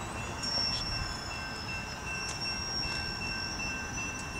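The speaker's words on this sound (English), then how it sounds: "Here comes the train." Low, steady rumble of an approaching Union Pacific grain freight train with a faint high squeal, growing slightly louder throughout, no talking.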